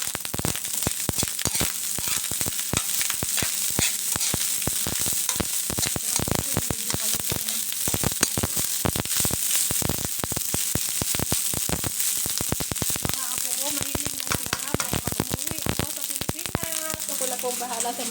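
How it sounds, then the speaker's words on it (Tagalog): Fried rice fries in a pan with a dense, continuous crackling sizzle, close and loud, broken by sharp pops and scraping stirs, while a voice talks faintly underneath. "Ayan po, malapit nang maluto ang aming fried rice ni Teresa."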